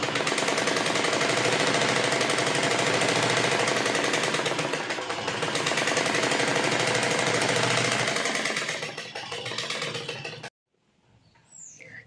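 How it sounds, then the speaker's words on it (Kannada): A sewing machine stitches a prince cut blouse with a fast, continuous, loud mechanical whirr and rattle for about ten seconds, then stops abruptly, leaving faint handling sounds. "ಇದಕ್ಕೆ ಮತ್ತೊಂದು ಸ್ಟಿಚ್ಚನ್ನು ಹಾಕೊಳ್ಳೋಣ."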